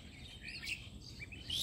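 Birds chirp and tweet softly at a quiet riverside resort at sunset, with thin high calls scattered over a faint, steady outdoor background.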